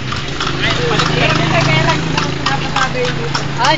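A horse clip-clops along a village road in the rural Philippines, with steady hoof beats under an engine hum, while people talk over it.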